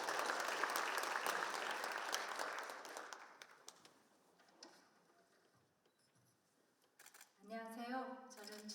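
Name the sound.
applause welcoming the speaker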